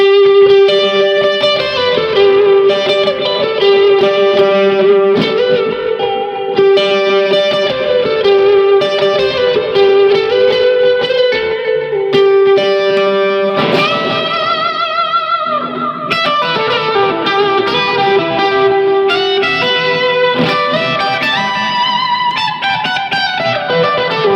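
Electric guitar notes played through a Kemper with three delay effects ring out, repeats cascading and overlapping into a dense, spacey wash that plays continuously without talk.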